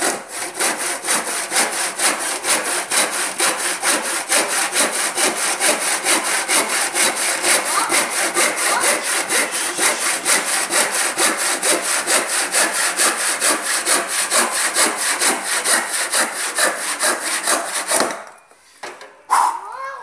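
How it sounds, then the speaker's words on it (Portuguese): A hand saw cuts through a pine wood rafter in steady, rapid back-and-forth strokes, rasping loudly and evenly for about eighteen seconds before stopping abruptly, followed by a few faint knocks. "Então vamos ver quanto tempo a gente consegue serrar essa madeira aqui"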